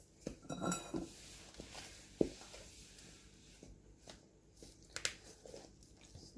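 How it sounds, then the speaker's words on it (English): Dough ingredients with four cups of flour mixed in a bowl, soft clinks and scrapes of a utensil against the bowl at an irregular pace, close and quiet. "we're going to mix this all up"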